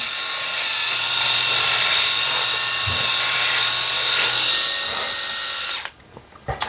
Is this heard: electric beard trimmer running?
yes